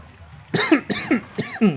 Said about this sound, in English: Apologies about the coughing.